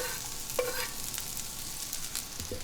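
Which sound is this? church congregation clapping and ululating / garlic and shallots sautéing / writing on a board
garlic and shallots sautéing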